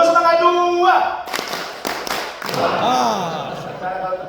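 A training-event audience does a rhythmic group clapping chant, with a short burst of sharp claps between loud shouted voices.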